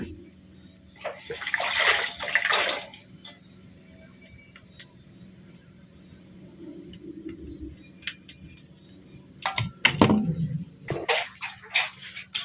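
Water runs and splashes in bursts while something is washed, with clinks and handling knocks in between, close and fairly quiet.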